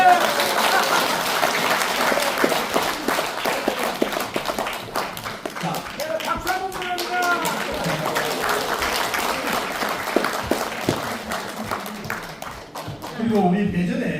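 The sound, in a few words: audience applause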